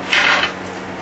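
Bacon grease goes into a pan with a short scraping, spattering burst of sizzle up close, fading quickly into a quieter tail within a second.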